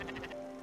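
A sheep in the Spiritfarer video game gives a short, quavering bleat of a few wavering pulses, moderately loud over a soft steady tonal backdrop.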